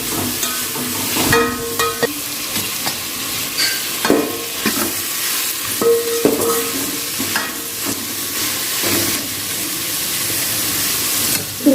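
Chopped tomatoes fry in a pan for Tamil coconut milk rice, a loud continuous sizzle broken by repeated scraping strokes of a stirring spoon, close and with no talk.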